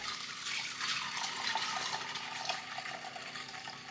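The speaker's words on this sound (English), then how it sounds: "I take 1 cup of beans, cover it with plenty of water, at least double the amount" Water pours into a bowl over one cup of dried beans set to soak, a steady splashing gush that tapers slightly, alone without talk.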